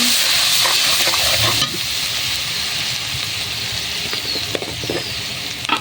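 Spiced poultry meat seasoned with chilli, salt and turmeric fries in a pan, a loud continuous sizzle broken by scraping stirring strokes and a few clinks of the utensil near the end.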